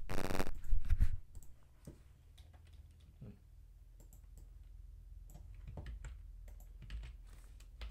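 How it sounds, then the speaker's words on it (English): Fingers tap on a computer keyboard in uneven bursts of soft clicks, near and fairly quiet, after a brief louder rustle at the start, with no speech. "I just type those sentences."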